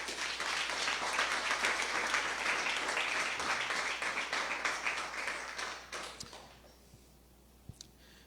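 A church congregation claps together in a dense burst of applause that holds for about five seconds, then thins into scattered claps and fades to a quiet room with a couple of isolated taps.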